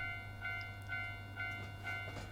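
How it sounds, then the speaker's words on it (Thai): Approaching train on railway tracks in the horror game Tsugunohi: a steady low rumble with sustained tonal hum and faint rhythmic clatter, continuous and moderately loud throughout. "เจอทางรถไฟ กับเสียงนี้เมื่อไหร่ก็คืออย่า เข้าไปใกล้เลยครับ"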